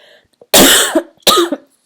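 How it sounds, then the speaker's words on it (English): Two harsh, loud coughs in quick succession, close up, with a short pause between them and no talking. "I'm so sorry, I have a coughing fit"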